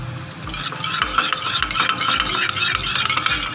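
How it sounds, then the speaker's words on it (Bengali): A tomato sauce and spice mixture for chilli chicken fries in a pan, with a spoon scraping in a steady rhythmic stir over a soft sizzle, close by and without talk. "এটাকে আমি আরেকটু ভেজে নেবো লাল লাল করে।"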